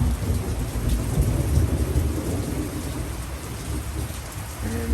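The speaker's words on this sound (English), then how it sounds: "A bit of thunder." A rainy day in Los Angeles brings steady rain and a low rumble of thunder, which swells and fades in the distance under a constant wash of falling drops, with no voices.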